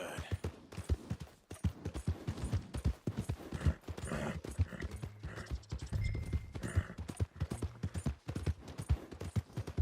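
Horse hooves clip-clop steadily in Red Dead Redemption 2, a loud, close, rhythmic run of hoof strikes continuing throughout, with a brief faint whinny and occasional game sounds beneath.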